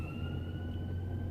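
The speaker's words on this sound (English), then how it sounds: "you can hear the sirens," A distant ambulance siren wails as a faint steady tone over low traffic rumble, brief and far off.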